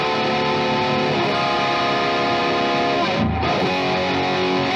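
Distorted electric guitar tapping fast arpeggios through a chord progression, a dense, continuous stream of notes, loud and close, with a brief dip near the end and no talk.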